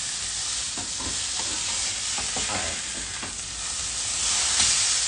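A steak frying in a pan, a continuous close hiss and crackle of sizzling fat that grows slightly louder toward the end, with occasional soft scraping of stirring and no talk.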